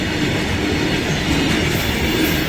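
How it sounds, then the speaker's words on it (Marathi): A freight train one to one and a half kilometres long rumbles steadily past close by at a level crossing, a continuous loud roar of wheels and rattling wagons with faint clickety-clack throughout. "एक दीड किलोमीटर पर्यंत लांब ट्रेन आहे"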